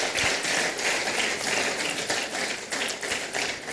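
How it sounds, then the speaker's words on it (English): Sustained applause from a lecture audience, a dense steady crackle of many hands clapping at once, fairly loud and without pauses or voices on top. "A round of applause,"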